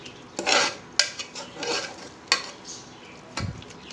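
Chilli powder and turmeric masala sautéed over low heat in a pan, heard as a handful of close utensil scrapes and clinks against the pan over a faint sizzle, no talking.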